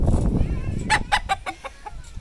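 A rooster gives a short run of clucks, five or six sharp close calls that fade toward the end, after a stretch of low rumbling background noise.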